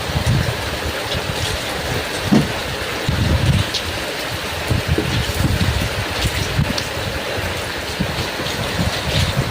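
Steady rain falls in a light, continuous wash with little wind, with soft patter and occasional nearby drips standing out over the even hiss.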